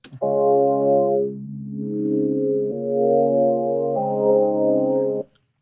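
A sustained synth chord progression, dark and muffled at first, then brightening as a FabFilter filter opens, with the tone shifting through several chords before stopping abruptly.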